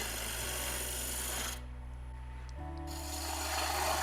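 Spindle roughing gouge cutting into a wood blank spinning on a lathe while turning a handle, a steady rasping scrape over the motor's low hum, briefly easing off midway before resuming, close and moderately quiet.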